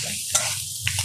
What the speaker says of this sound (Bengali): রসুনটা একটু ভেজে নিচ্ছে